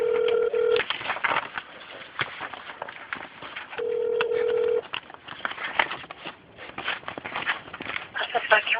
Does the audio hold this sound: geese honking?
no